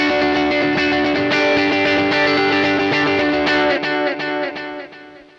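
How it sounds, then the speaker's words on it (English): Electric guitar played through a Nux Atlantic delay and reverb pedal gives sustained chords with lush, distorted, smeared repeats, loud and close, fading toward the end with no talking. "the Nux Atlantic delay and reverb pedal"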